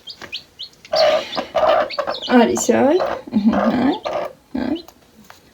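Domestic hens cluck and newly hatched chicks peep close by in a backyard coop. The short, high chirps and low clucks are interleaved with a person talking over them.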